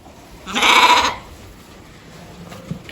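Merino sheep and lambs in a barn, with one loud, close bleat lasting about half a second, then quiet shuffling.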